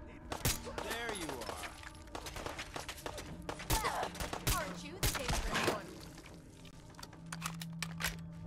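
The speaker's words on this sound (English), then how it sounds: "all the raiders started shooting at us" Gunfire from raiders in Fallout 4, delivered as a string of sharp, rapid cracks and bursts spread across the scene, mixed with other loud game action and effects.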